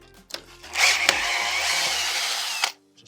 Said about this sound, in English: I'm using a drill with a chuck because it's quite early